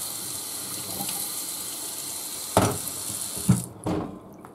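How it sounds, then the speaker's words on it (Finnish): Tap water runs steadily into a pot of porridge as it is being made, a continuous close hiss and gush that breaks into a few splashy bursts near the end before cutting off. "Puurohon pistetään vettä."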